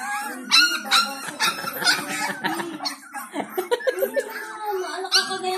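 Hungry puppies whimper, yip and howl in a close, busy chorus of high squeals, with people laughing and talking over them throughout.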